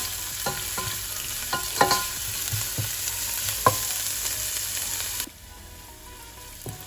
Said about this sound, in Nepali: अब यसलाई राम्रोसँगले एकछिन भुट्छु मैले।